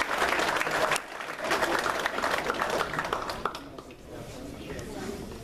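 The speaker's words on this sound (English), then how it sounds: "Folks, let's give them a big round of applause" At a Berks County Patriots candidates night, the audience breaks into full, steady applause that carries on for several seconds with voices talking over it.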